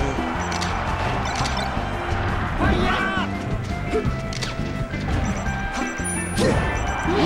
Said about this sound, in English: Ooh, nice down smash.